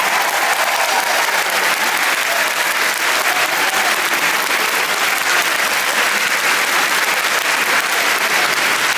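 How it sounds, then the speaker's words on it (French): A concert audience at the Théâtre Royal de Mons claps loudly and continuously, a dense wash of many hands sustained without a break. "vous applaudissez très bien"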